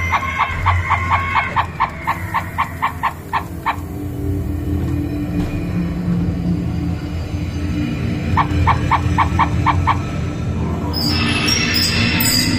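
A mechanical animatronic bird on the Laberinto del Minotauro amusement dark ride gives two loud bursts of rapid, evenly spaced honking gobbles over a steady rumbling ride background, with a brief squawk near the end.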